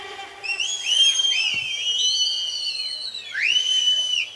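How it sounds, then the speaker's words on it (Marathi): Audience members at a lavani dance performance whistle, a flurry of shrill rising and falling whistles that overlap, loud and close, with a slight pause before a final burst. "शिट्ट्या"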